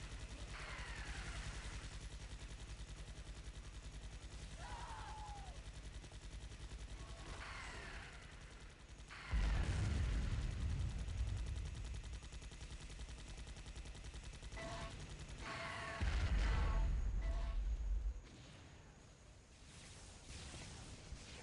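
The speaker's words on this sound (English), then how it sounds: "Now there's 2 miniguns holding off the base." Miniguns firing in Unreal Tournament 2004 during an assault match, with rapid bursts of gunfire, two loud sustained stretches and quieter intermittent shots and game effects in between.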